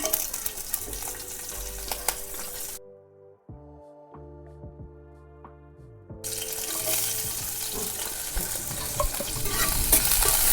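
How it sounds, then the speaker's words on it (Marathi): Green chillies frying in hot oil with mustard seeds and cumin, a broad steady sizzle that drops out midway for a few seconds of quieter clinks, then returns slightly louder, with no talking. "मिरच्या परतून घ्यायच्या तर बघा मिरच्या पण परतून झाल्या"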